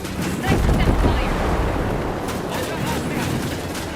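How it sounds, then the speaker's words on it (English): Sniper gunfire in the shooter video game Ghost Recon Breakpoint: a couple of heavy, booming shots with rumbling tails over a dense, noisy background. "Sniper's about to shoot at us!"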